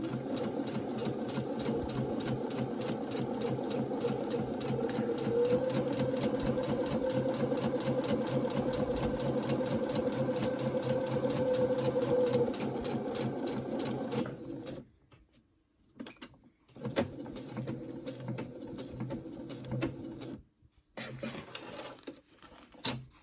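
A sewing machine stitches the curved seams of a reversible washable fabric face mask, running steadily for about fourteen seconds, then stopping and restarting in short bursts with pauses.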